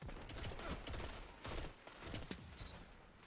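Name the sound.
Legal Action II pulse rifle bursts in video game Destiny 2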